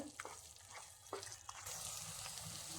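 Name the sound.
stirring halwa in a pan until it comes away from the spatula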